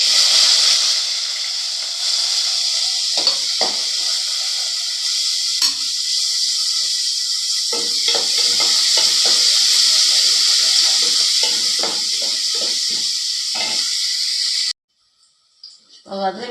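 Shallots, curry leaves and about ten garlic cloves sauté in hot oil for an okra gravy, a loud, steady close sizzle with stirring scrapes that stops abruptly near the end.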